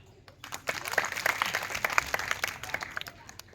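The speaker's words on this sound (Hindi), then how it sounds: "एक बार तालियां" Audience applause at a magician's show in a girls' gurukul, a burst of many clapping hands that rises quickly after a quiet start, holds steady and then tapers off.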